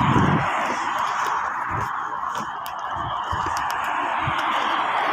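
Outdoors along a roadside walk, a flock of honking, goose-like birds calls continuously and fairly loudly over background noise, with occasional chatter nearby.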